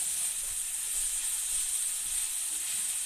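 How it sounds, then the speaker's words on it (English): Minced garlic sizzles in a pan while spaghetti is being made, a steady soft hiss and crackle of frying with no talk over it. "Add a little bit of minced garlic."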